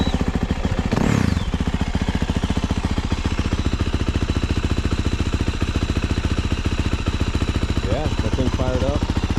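A Yamaha YZ450FX dirt bike, a 2024 model, idles steadily nearby with an even, loud mechanical putter. A brief mechanical whine comes near the start, and a faint voice breaks in near the end.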